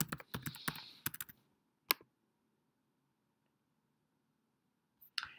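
Quick bursts of clicky key presses on a computer keyboard, then a lone tap and a long quiet pause before a final short flurry of typing, all close and crisp.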